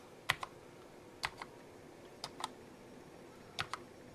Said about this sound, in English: Here's a key press